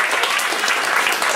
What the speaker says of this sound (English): So I already want to give you a round of applause.